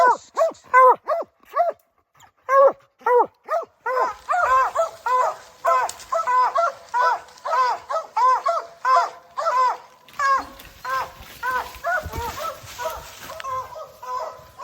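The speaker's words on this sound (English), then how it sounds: "He's watching these dogs bark." Several hunting dogs bark and yip in rapid, overlapping bursts at a treed bear, loud and close, with brief pauses and some whimpering mixed in.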